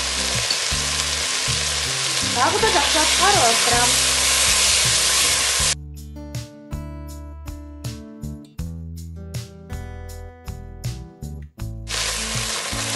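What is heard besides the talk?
meat frying with tomato paste in a pan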